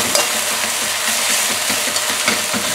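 Onions, garlic and ginger frying in a pan, giving a steady, close, broadband sizzle throughout with light stirring scrapes mixed in.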